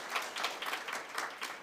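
A conference audience applauds its chairperson at an African languages association meeting, a steady spread of many hands clapping with pulsing swells, moderately loud and filling the room, with no voices over it.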